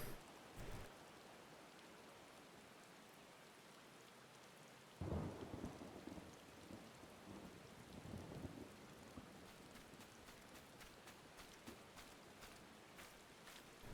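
Rainfall and thunder in the Final Fantasy XIV video game, with a steady patter of rain and a deep rumble that swells midway, followed by a run of sharp, crackling drops near the end.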